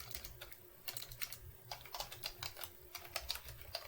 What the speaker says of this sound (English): oh my goodness, can't type